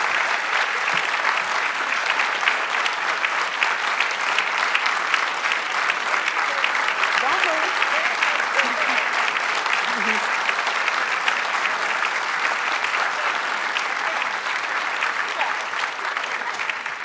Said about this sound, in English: give these guys a round of applause for putting on a huge, great conference